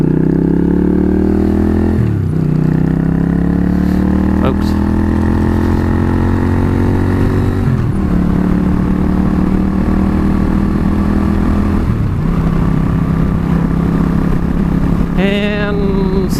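A motorcycle engine runs steadily at a loud idle close by, its low rumble rising and falling through a few brief revs, with faint clicks and a short mechanical whine near the end.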